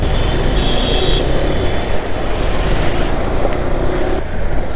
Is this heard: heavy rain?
yes